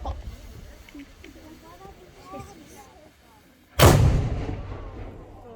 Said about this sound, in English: That's a real cannon shot at Vesting Bourtange.